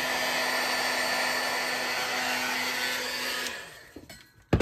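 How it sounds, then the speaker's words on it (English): Steady, loud whirring roar of an embossing heat gun warming a Yuletide village card, running continuously for several seconds before cutting off, followed by a few brief clicks and knocks. "I'm going to heat that up. I'll heat my gun"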